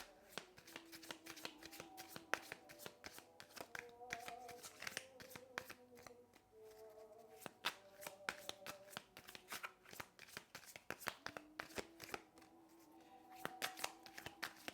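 A deck of playing cards being shuffled again and again at close range, with quick riffling bursts and soft hand handling in a quiet room.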